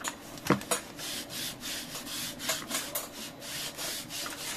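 Rubber stamps being inked on a stamping platform at a scrapbooking table: a string of soft, close rubbing and dabbing strokes in an uneven rhythm, with one sharper tap near the start; no talk.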